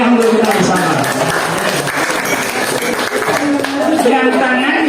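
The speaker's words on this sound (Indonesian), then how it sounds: "Tepuk tangan yang meriah untuk kita bersama" Lively applause from a workshop audience at a school, a full, sustained round of clapping mixed with voices and chatter throughout.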